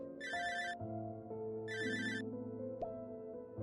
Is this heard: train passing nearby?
no